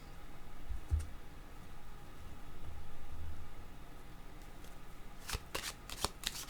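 Tarot cards are shuffled by hand close up, a soft riffling rustle followed by a quick run of sharp card flicks and snaps near the end, with no talking.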